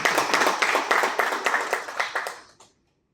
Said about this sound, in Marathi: सरांच्या मागच्या पिढ्यासाठी पण जोरदार टाळ्या.